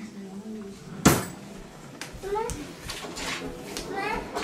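A cupboard or drawer door shuts with one sharp close near the one-second mark, followed by a voice and an adult's chatter.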